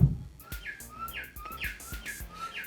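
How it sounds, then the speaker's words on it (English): Bright, repeated bird chirps ring out in a steady series of short tweets, clear and fairly close, with no one speaking. "The birdies are calling."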